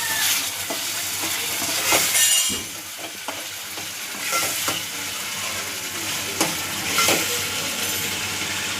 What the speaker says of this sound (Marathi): मसाला भाजून झालेला आहे बघा तेल सुटलं मसाल्याला